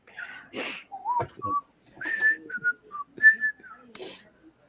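A person whistles a short, broken tune of thin, clear notes up close, mixed with breathy sounds and brief mouth noises, and no talk over it.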